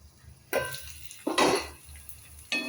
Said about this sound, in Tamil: மூடி மூடி வதக்கும், நல்லா வதங்கும்